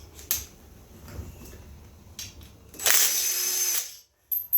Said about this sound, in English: I'm going to take these screws off real quick.